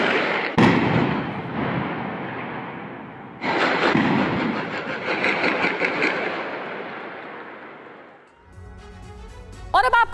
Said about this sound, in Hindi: आमने सामने की यहाँ गन फाइट चल रही है